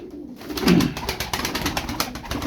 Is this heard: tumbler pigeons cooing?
yes